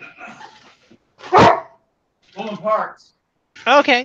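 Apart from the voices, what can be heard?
dog barking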